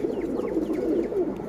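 Soft, steady cooing from silver racing pigeons fills the short span, a close, low, rolling murmur with no voices.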